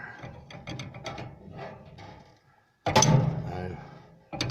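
A 3/4 inch open-end wrench works loose a fitting on an old RV furnace, giving scattered close metallic clicks and scrapes, then a louder clank as it pops free.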